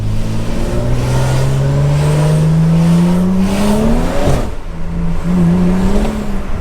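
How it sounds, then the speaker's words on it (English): A tuned BMW with a flashed transmission runs at a steady engine drone that climbs in pitch under acceleration, then drops sharply on a shift, with a brief burble as revs fall. "You gotta love that crisp one burble or one pop."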